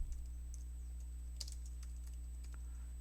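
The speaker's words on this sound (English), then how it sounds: "we're just gonna be very basic here and type" Light, steady typing on a computer keyboard while a simple Python script is entered, with soft scattered key clicks over a constant low electrical hum and no talking.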